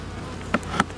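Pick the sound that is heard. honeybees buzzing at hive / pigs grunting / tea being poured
honeybees buzzing at hive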